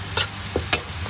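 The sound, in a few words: stirring chicken tinola soup with fish sauce in pot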